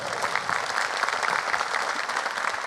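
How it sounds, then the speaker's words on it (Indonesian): A stand-up comedy audience gives a comedian another round of applause, a full and steady burst of many hands clapping at once, heard on its own without talk. "Boleh deh tepuk tangan sekali lagi untuk Popon"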